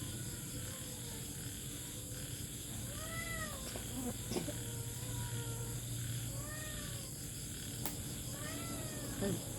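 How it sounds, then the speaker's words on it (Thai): Cat meowing several times in short, rising calls at a moderate distance over a steady hiss of background noise, with a few soft knocks between them. "แมวแมว"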